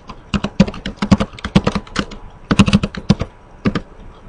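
Commands being typed on a computer keyboard: bursts of quick, close, crisp key taps with short pauses between them, and no voices.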